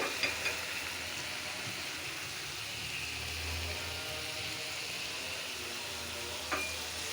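Spice paste being fried in a pan for a koi fish curry, giving a steady, fairly quiet sizzle throughout with a few light stirring clinks.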